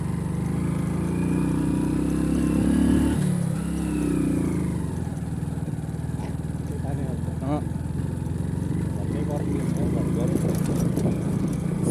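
Hero Splendor motorcycle engine labouring up a steep offroad climb, a continuous loud close drone with slight pitch shifts, while someone talks over it.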